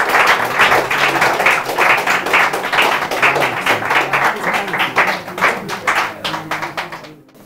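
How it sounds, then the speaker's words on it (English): Audience applause for church teams at a Bible Bee quiz contest, dense steady clapping lasting about seven seconds before fading out at the end, with a faint murmur of voices beneath. "Let's give them a round of applause."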